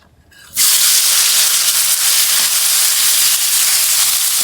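Meat and potatoes hit hot oil on a stove, bursting into a loud, steady sizzling hiss that continues without break after a brief quiet start.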